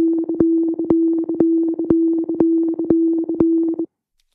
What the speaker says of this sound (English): you can hear bubbles are working here on output number 3 of Drambo